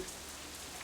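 Steady, soft rain patters across the whole moment in the visual novel Katawa Shoujo, an even hiss of drops that stays faint and constant with no voices.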